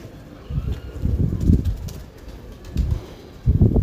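A champion rooftop pigeon and its flock coo in low, throaty bursts that come in three uneven clusters, fairly close and unaccompanied by speech.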